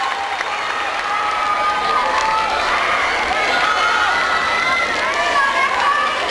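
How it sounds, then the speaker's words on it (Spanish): A crowd at a beauty pageant in Ixmiquilpan applauds and cheers, sustained loud clapping mixed with shouts and whoops from many people, steady throughout. "¡Fuerte aplauso, que se escuche!"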